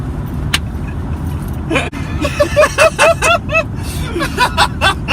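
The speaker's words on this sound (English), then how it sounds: "We're just on the road in a U-Haul van." Road noise from a U-Haul van on the move, a steady low rumble under the whole stretch, with people talking and laughing close by inside the cab.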